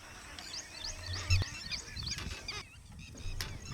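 Grey-headed swamphen calling, a series of close, loud honking and squawking notes with some chirpy birdsong in the background, uneven rhythm over a few seconds.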